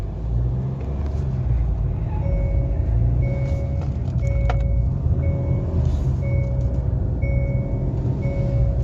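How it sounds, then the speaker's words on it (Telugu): A Hyundai Tucson automatic SUV with its check engine light on and a low pickup problem drives in drive mode at low RPM, giving a steady loud engine and turbo drone with faint intermittent beeps over it. "ఒక టర్బో నాయిస్ బాగా వినిపిస్తూ ఉంది. అంటే లో ఆర్పిఎంలోనే నాయిస్ అనేది బాగా వినిపిస్తూ ఉంది"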